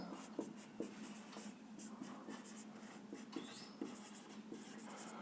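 Quiet pen strokes on paper during a class 8 maths exercise: soft, irregular scratches and taps, very faint, with no clear speech.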